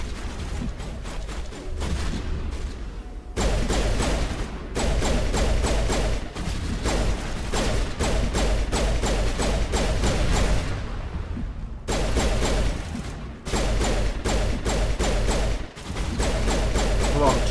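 Repeated sharp gunshots ring out in Mass Effect 1, fired in steady rapid volleys with brief pauses, loud and close, with occasional combat voices mixed in.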